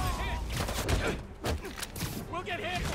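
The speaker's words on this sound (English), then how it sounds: "They're shooting at you." Enemy gunfire in Marvel's Spider-Man 2 on its hardest difficulty crackles in dense bursts of shots, mixed with game effects and talk throughout.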